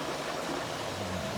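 A Whirlpool Duet front-load washing machine drains water, giving a steady rushing, gurgling wash of noise with a low pump hum underneath, continuous and fairly loud throughout.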